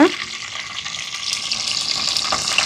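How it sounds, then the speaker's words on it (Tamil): Fenugreek seeds and curry leaves frying in hot sesame oil, a bright, close, continuous crackling sizzle that starts with a sharp burst and holds steady. "இப்போ வெந்தயம் கொஞ்சம் பொரியட்டும் இப்போ நல்லெண்ணெய் சூடாயிட்டு கருவேப்பிலை"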